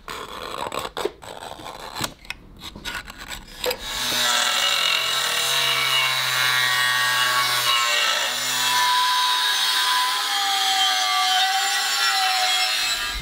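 A steel chef's knife blade being cut out with a saw: loud, rough rasping in uneven bursts at first, then a steady, continuous grinding cut for the rest, close up with no talking.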